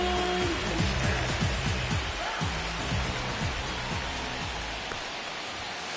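Steady, heavy rain pours down over a baseball game in MLB The Show 25, a dense, continuous hiss that holds evenly throughout with soft low thumps beneath.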